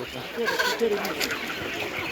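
A white Czech Dominant hen clucks at an animal market, a few soft clucks under a person talking and the murmur of the surrounding crowd.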